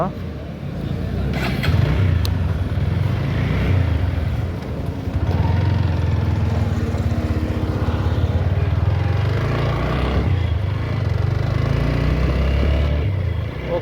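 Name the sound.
motorcycle being ridden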